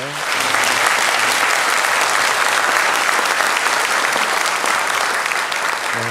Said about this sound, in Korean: 우리 큰 박수로 여러분들이 좀 환영해 주시면 감사하겠습니다